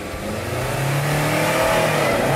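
A 2018 Subaru WRX STI with a 2.5 litre turbocharged flat-four engine revs up, a rising mid-pitched engine note that swells steadily over a couple of seconds, close and fairly loud, with no speech.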